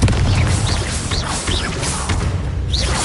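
A Confringo blasting spell in a Harry Potter video game, a dense, loud burst of explosive noise and crackling blast rumble filling the moment, with faint whooshing tones above.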